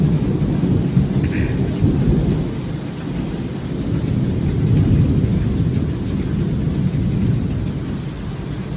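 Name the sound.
thunderstorm in the video game Star Citizen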